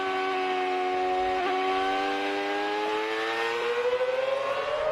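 A race car runs at speed around Watkins Glen International. Its engine holds a loud, continuous tone that climbs steadily in pitch as it accelerates, with a slight flutter near the end.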